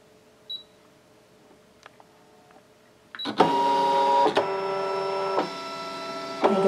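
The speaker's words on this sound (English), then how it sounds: "You can see that it's drawing the quarter inch seam allowance." A Brother ScanNCut machine draws a quarter-inch seam allowance on quilting fabric, a quiet start with small clicks, then a loud whirring motor hum that steps in pitch as the carriage shifts, close and alone.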